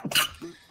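A single sharp sneeze bursts out close by, short and forceful, followed by a brief softer exhale and then quiet.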